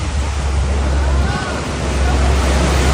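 Floodwater rushes across a submerged road near Pattambi, a loud, steady roar of moving water with a deep low rumble, continuous throughout.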